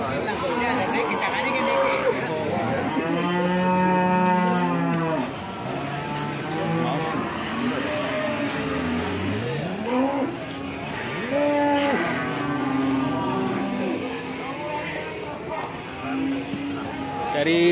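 Cattle at a busy cattle market moo repeatedly in long, loud calls, some near and some farther off, with people chattering throughout the crowded setting.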